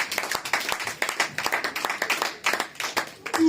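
A church congregation at a Sunday service claps in quick, uneven bursts of applause for Jesus, dense hand claps filling the space with brief dips between waves.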